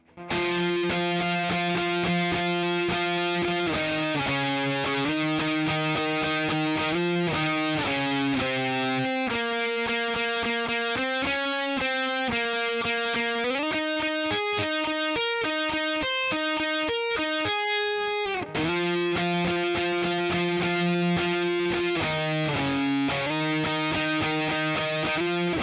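A distorted electric guitar plays the solo from a song, picked notes running up and down, steady and loud throughout, with no voices.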